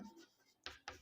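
Chalk or marker writing on a board during a physics lesson on equations of motion; faint, short scratchy strokes, with two sharper, louder strokes near the end and no talking.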